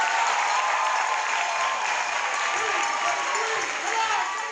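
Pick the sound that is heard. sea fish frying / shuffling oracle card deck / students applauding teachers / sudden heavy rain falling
students applauding teachers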